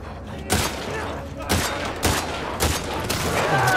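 Gunfire during Abby's section of The Last of Us Part II: sharp, loud shots land at irregular intervals over a steady backdrop of game ambience, with no voices.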